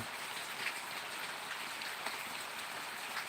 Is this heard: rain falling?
yes